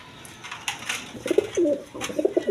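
Reverse pigeons give several close, throaty coos in quick succession over faint background noise from the loft.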